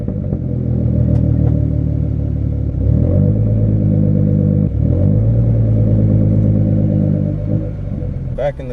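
A car engine rumbles steadily at close range as the freshly washed car backs up, with a brief rise in revs partway through and no speech over it.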